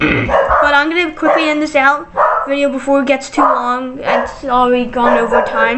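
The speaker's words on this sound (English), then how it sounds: "I'm sorry if you hear my dogs" Pet dogs bark and yip in repeated bursts close by, heard alongside a person speaking.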